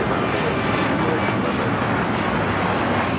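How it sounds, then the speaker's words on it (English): An Alaska Airlines Boeing 737 MAX 9 in San Francisco Giants livery takes off from LAX, a loud, steady roaring jet engine blast that fills the whole stretch, with faint talk beneath. "This is Alaska Airlines 1332 taking off to Cancun on the MAX 9 with the San Francisco Giants livery."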